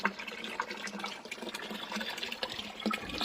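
Water pours steadily down a garden pond waterfall built with a gabion, a continuous close splashing rush with small bubbling bursts throughout.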